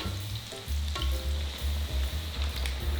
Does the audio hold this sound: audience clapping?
no